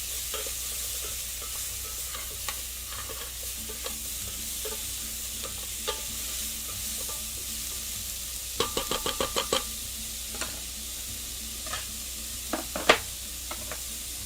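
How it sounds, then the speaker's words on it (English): Onions sauté in a pan with a little salt, a soft continuous sizzle running under occasional scraping stirs, including a quick burst of rapid spoon knocks midway. "Now when you're sauteing your onions, you add a little salt so that it draws the water out."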